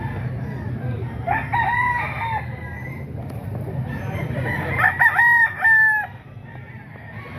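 Roosters crow at a crowded gamefowl market, two drawn-out calls close by over a steady murmur of crowd noise and faint clucking, with people talking in the background.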